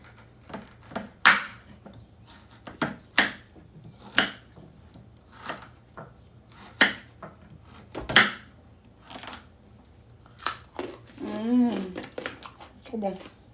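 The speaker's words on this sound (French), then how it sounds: "J'ai presque terminé. De découper mes pommes de terre et mes carottes." A knife cuts potatoes and carrots in sharp, separate strokes at an uneven pace, close and fairly quiet, with a person talking between the cuts.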